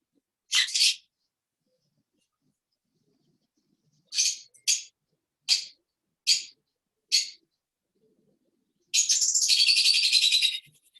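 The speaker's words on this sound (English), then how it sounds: "I have a rescue bird here. Oh. She can be quite vocal." A pet rescue bird chirps indoors in short, loud bursts: a single call, a run of four or five quick chirps, then a longer harsh squawk, with quiet gaps between.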